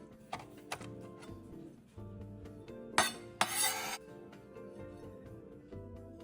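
Soaked dried shrimp chopped on a board with a cleaver, a few sharp knife knocks spread out, plus a short burst of louder scraping clatter midway, quiet overall.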